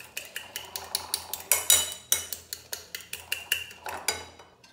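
Egg yolk mixture for rabanada beaten by hand with a fork or spoon in a bowl, a steady rhythm of bright clinking strokes against the sides, close and fairly loud with no voices.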